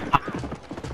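Horse hooves clip-clopping in a video game, a quick run of light hoofbeats mixed with game sounds and excited talking over the top.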